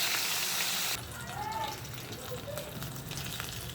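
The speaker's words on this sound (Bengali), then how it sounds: "শাকের জন্য যেহেতু মাছটা দেবো, একটু কড়া করে ভেজে নিতে হবে।" Snakehead fish head frying crisp in hot oil for a greens dish, a close, steady sizzle that is loudest at first and then continues at a softer, even crackle.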